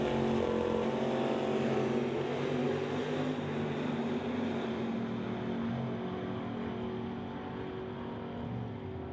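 Engines roaring continuously at an old-time drag strip as a Camaro and a little Vega make their run, a loud sustained drone that slowly fades with distance, with no talking.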